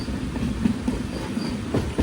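The Panchaganga Express runs along the Konkan Railway near Canacona, its wheels giving a close, steady clickety-clack over a continuous low rumble.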